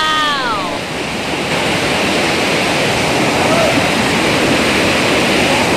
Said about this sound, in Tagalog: Hidden Falls.